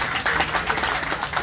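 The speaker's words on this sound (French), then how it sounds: "Vraiment, applaudissez-les" Audience applause at a community celebration event, a steady wash of many hands clapping at moderate distance throughout.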